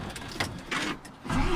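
A truck engine revs briefly, with a couple of short swells of motor noise over a rough, nearby idle.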